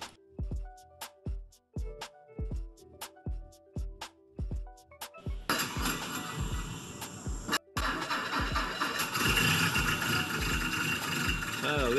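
A 1930 Ford Model A engine cranks in a series of rhythmic starter pulses, then catches and runs on at a steady, close rumble as a voice talks over it.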